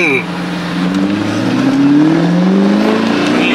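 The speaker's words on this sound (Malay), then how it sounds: "Dia punya downshift lah." A powerful twin-turbo V8 Audi R8 engine roars and drops through gears, revs rising and falling with a throaty burble, loud and close throughout.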